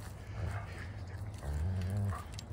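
Dogs in an illegal dog fight growl and whimper at close range, low guttural snarls rising into a brief strained whine, fairly faint.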